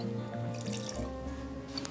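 Vanilla extract splashes briefly into a bowl of cream cheese and sugar, a soft liquid pour heard up close and alone.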